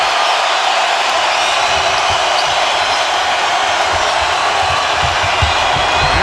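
A packed arena crowd roars steadily through a 2015–16 NBA game between the Thunder and the Heat, a dense, loud wash of cheering that holds without a break, with no one speaking over it.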